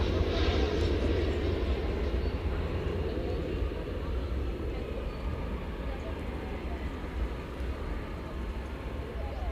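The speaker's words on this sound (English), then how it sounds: "landing there from San Francisco, California, flight 2387" American Airlines flight 2387 from San Francisco lands at DFW Airport, a broad, continuous jet roar that stays loud and steady for the whole stretch, fading only slightly toward the end.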